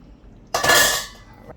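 Pots and dishes handled for washing up after cooking curry chicken: a single loud clattering clank of metal and crockery close by, ringing briefly and fading within half a second, with no talk.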